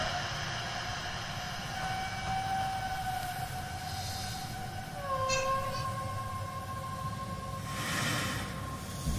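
Subway train in a video game, a steady rumbling ride with sustained tonal whines and a rising-falling siren-like tone, continuous and moderately loud with no talk.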